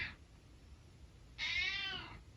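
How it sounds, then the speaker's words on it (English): Sparky the cat gives a short chirp, then a longer, loud, close meow after a brief quiet pause. "I don't even know what you're meowing about."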